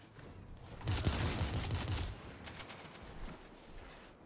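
Rapid gunfire from a weapon in the video game Destiny 2 rattles in a dense burst lasting about a second, then trails off into scattered quieter shots and game ambience.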